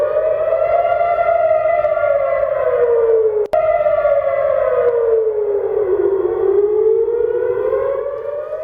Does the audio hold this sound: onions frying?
no